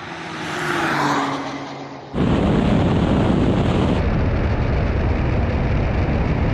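A Nissan GTR-Nismo, Honda NSX and Porsche 911 Turbo S race side by side at high speed, and a rising engine note gives way to a loud, roaring rush of wind and road noise.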